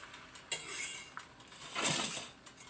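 A fork scrapes and clinks against the bottom of an old-school cast iron skillet during breakfast cooking, giving a few quiet metallic taps and then one longer, brighter scrape near the end.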